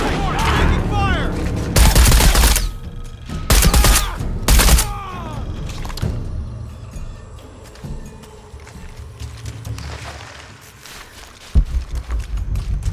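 Gunfire in the Shadow of the Tomb Raider video game: several loud close bursts of shots in quick clusters, followed by quieter scattered firing and movement, with voices shouting in places.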